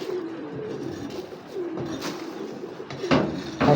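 A pigeon coos softly in a low, rolling call, repeated a few times nearby, with a couple of sharper knocks or rustles near the end.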